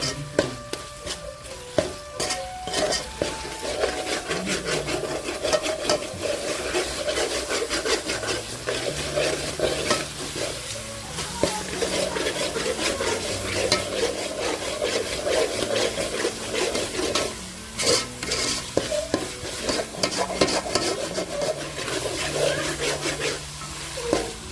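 Chopped tomatoes sautéing with a little salt in a pan for banana flower biryani, stirred with steady, close scraping and rasping strokes over a soft melodic background that runs throughout.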